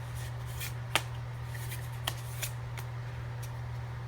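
Tarot cards are shuffled by hand, with soft papery riffles and a few sharp snaps standing out over a low steady hum, fairly quiet and close.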